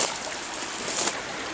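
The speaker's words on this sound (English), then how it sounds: "This nice little creek down here." A small creek flows near an outdoor hunting camp in coastal California, giving a steady broad rush of running water that stays close and fairly loud, alone with no voices.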